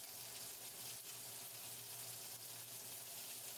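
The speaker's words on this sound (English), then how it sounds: "we're just gonna sear both sides real quick" Fish sears in beef tallow in a hot pan, a faint, steady hiss of sizzling with no break across the short stretch.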